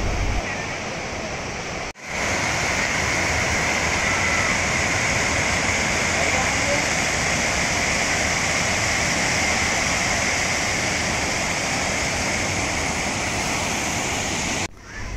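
Kondapalli waterfall near Vijayawada pours in a steady, dense, loud roar that fills the whole scene without a break.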